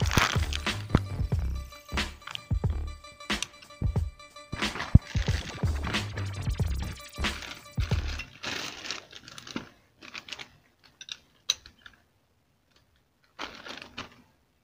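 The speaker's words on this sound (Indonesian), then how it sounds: "sebelum nak pasang fork yang baru, kita kena longgarkan dulu nutup fork yang bahagian atas ni." A motorcycle's top fork cap nut is worked loose on an LC V1 front fork during a Tobaki fork swap, with close clicky, clattering tool taps and knocks that thin out into sparse faint clicks, no talking.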